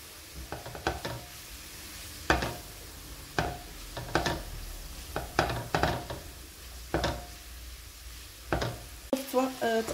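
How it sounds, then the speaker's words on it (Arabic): Onions frying in a pan while being stirred, with irregular scraping and clinking strokes against the pan over a soft background hiss, close by and moderately quiet. "صافي غادي نخلط كلشي مزيان حتى نحس بالبصله بدات تدبل"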